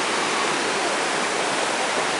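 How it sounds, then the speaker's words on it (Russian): Rushing river water where the Katun and Chemal rivers merge near the Chemal hydroelectric dam, a loud continuous broadband roar with no pauses or voices. "Здесь сливаются две реки."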